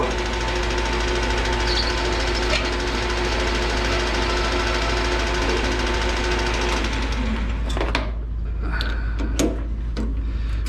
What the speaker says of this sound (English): these are stainless steel and it's cutting these great. I love this this little lathe I bought